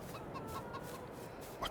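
Flock of chickens in Farming Simulator 22 clucking softly under a steady farmyard ambience, with a few faint repeated clucks and one slightly louder call near the end.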